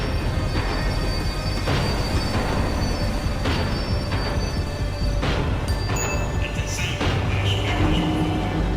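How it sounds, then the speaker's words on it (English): A tram slowing down in the video game Max Payne 3: a continuous loud rumble with repeated metallic wheel squeals and clatter over several seconds. "The tram was slowing down, and I'd only just gotten on board."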